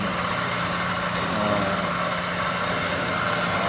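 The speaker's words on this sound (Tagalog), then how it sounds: "habang nandito po ako sa pump room, papaandar ng mga motor" Motors running in a pump room, giving a constant, fairly loud mechanical drone with a steady tonal hum and no variation in level, with no talking.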